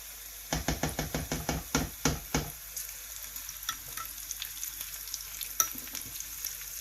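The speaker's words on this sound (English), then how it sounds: "I'm just going to give it a mix so that the garlic is nice and brown." Garlic, chili and curry leaves frying in ghee for a tarka dal, opening with a quick run of sharp rhythmic knocks of a spoon against the pan, then a quieter crackling sizzle with scattered small pops.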